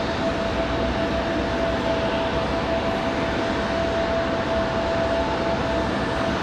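A Frontier Airlines plane at Raleigh-Durham International Airport gives a steady, fairly loud engine roar with a thin whining tone held throughout, unbroken and without voices.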